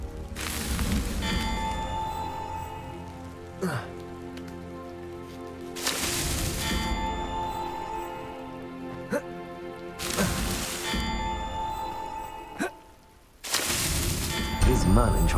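Confringo blasting spells cast in Hogwarts Legacy: several loud broadband bursts recur every four seconds or so, standing out above a steady hiss of rain and background music.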